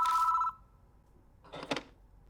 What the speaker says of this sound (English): It doesn't seem to want to stop ringing, so I reach for the phone.